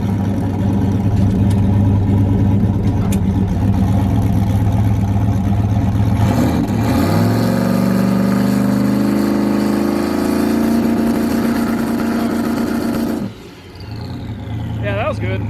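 A big turbocharged street truck engine goes to full throttle in first gear, its roar climbing in pitch as boost builds over several seconds before cutting off abruptly near the end.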